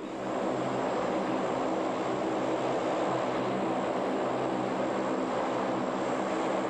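An airplane cabin drones with a steady, loud, broadband engine roar that holds unchanged throughout, with no voices heard.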